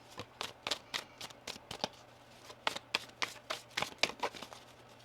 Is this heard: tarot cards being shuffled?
yes